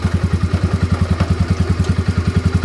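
Yamaha XT125X motorcycle engine running loud and close, a steady fast pulsing thump that holds an even rhythm with slight clatter, with no clear rise in revs.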